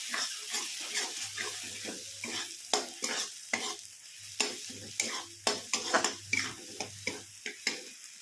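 Spices and Kashmiri red chili frying in oil for dhaba-style dum aloo, stirred with a run of repeated scraping strokes across the pan over a low sizzle, close and clear with no voices.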